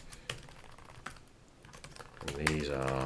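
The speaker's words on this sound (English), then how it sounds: "Sketchy typing today and lots of moving around with my arrow keys" Faint keystrokes on a computer keyboard, including arrow keys, come in sparse, uneven taps while someone writes C code. A voice starts near the end.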